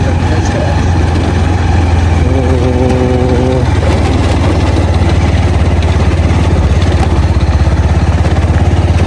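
Motorcycle idling on a village road in Uttarakhand: a loud, steady engine rumble runs throughout with a constant low throb, while a voice speaks briefly partway through.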